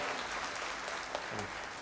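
A brief burst of clapping from an audience at an annual firm meeting honoring a student, a faint, steady patter of hands lasting under two seconds.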